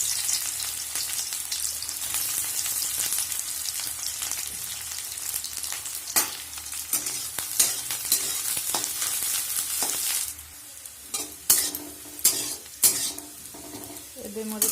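Onions frying in mustard oil in a wok, a steady broadband sizzle running throughout, with occasional louder clacks of stirring and utensil scrapes toward the end.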